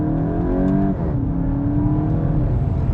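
A VW Golf 8 GTI cruising on a highway gives a steady, close engine drone with a brief shift in pitch about a second in, then continuous road hum with no talk.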